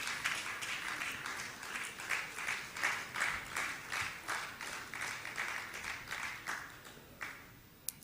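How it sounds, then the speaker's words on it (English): Faint, steady applause from an insurance industry conference audience, with many hands clapping in a continuous rolling patter that pulses slightly and fades near the end, heard from a distance. "a round of applause,"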